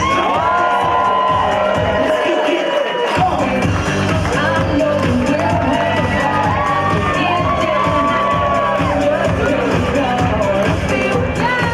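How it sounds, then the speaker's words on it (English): Wedding guests cheer, whoop and clap loudly as a crowd, a dense, sustained roar that stays loud throughout, with a brief dip in the low rumble early on. "Last but not least, give it up for Brandon, Laura, their daughter and son"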